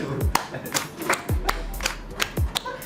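Isolated hand claps ring out at a creative effort, a few sharp slaps spaced through a short stretch, fairly close.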